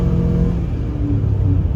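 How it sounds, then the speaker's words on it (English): A replacement 6.0 diesel engine idling smoothly, a steady low rumble and drone heard close and loud without any choppiness, running alone with no voices. "It's amazing how much better this motor is."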